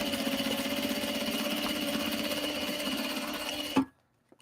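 A sewing machine stitching a clutch wallet made from obi and kimono fabric, running steadily with a fast rhythmic whir close up, then stopping abruptly with a final clunk.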